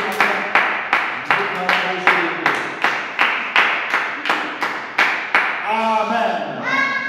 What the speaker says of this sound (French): Nous acclamons pour la parole de Dieu.